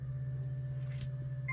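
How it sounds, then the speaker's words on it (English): Car fuel pump priming as the ignition is switched on, a steady low electric hum close to the microphone with a faint higher whine and a brief tone shift at the end. "There's my fuel pump."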